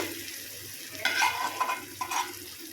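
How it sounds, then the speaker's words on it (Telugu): Red gongura chutney with cumin and ripe red chilies stirred in a pan over low flame; a soft sizzle runs under a few brisk spoon scrapes in the middle, with no talking. "ఇది ఒక్కసారి మంచిగా కలుపుకోవాలి లో ఫ్లేమ్లోనే ఉంచుకోండి"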